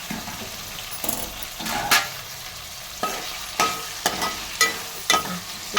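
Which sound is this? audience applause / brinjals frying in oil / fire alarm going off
brinjals frying in oil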